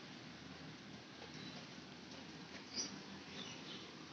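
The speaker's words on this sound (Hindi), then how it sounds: "बाहर बारिश तेज़ हो रही।" Heavy rain falls outside a shed on a goat farm, a faint, even hiss of steady downpour with no talking.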